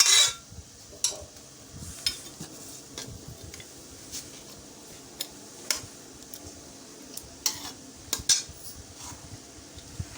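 Metal clinks and scrapes sound as pressure-cooked mutton is shifted into a kadai on the stove for korma, with sporadic clatters of a spoon against the pot between quieter stretches.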